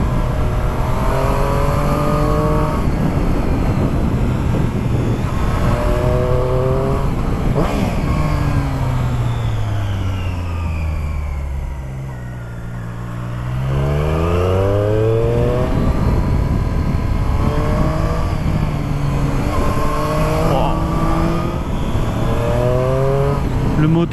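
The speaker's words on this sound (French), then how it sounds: "Le moteur est plein de vigueur, ça c'est sûr." Triumph Street Triple S 660 motorcycle engine revving up through repeated gear changes, rising and dropping in pitch as it accelerates, loud and close throughout with a brief dip while it slows midway.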